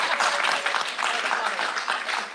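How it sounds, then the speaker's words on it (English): An audience at a community beautification workshop applauds, giving a steady, even patter of clapping that lasts a couple of seconds with no talk over it. "And you can applaud them too."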